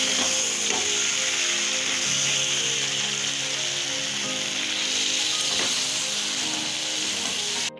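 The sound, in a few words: spices sizzling in a pan, coriander and Kashmiri chili powder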